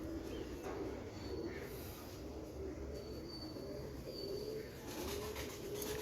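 Pigeons of the Teddy breed, two pairs, cooing faintly amid a steady rumbling background with an occasional squeal, the soft low calls repeating at a distance.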